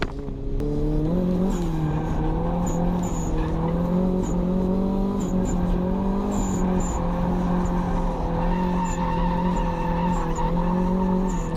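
A car drifts with its tires skidding and squealing in a long, continuous, loud wail that rises and falls under the roaring engine, with no one talking.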